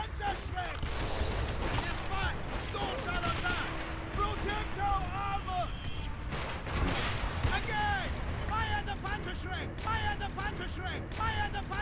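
A Panzerschreck rocket launcher in Call of Duty Zombies fires amid a chaotic din of gunfire, blasts and zombie screeches, with a narrator speaking over the loud, continuous action.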